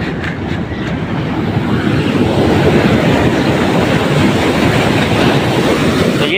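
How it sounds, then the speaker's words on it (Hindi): Water rushes down a canal drop in a dense, continuous roar, loud and close, steady throughout with no talking. "तो काफ़ी तेज़ी से पानी नीचे उतरता है।"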